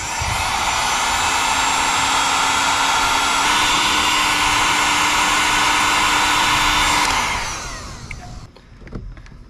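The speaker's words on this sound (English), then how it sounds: "what I want to do is shrink wrap this. That will allow it to seal up and be watertight." Heat gun blowing on heat-shrink wrap over Jeep TJ headlight wiring, a loud steady whooshing roar held for about seven seconds before it winds down and trails off, close and alone.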